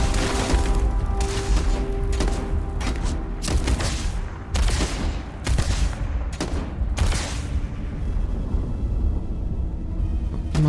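Gunshots and booming fire in the video game Starfield, loud and dense, with repeated sharp bursts over a constant rumbling battle din throughout.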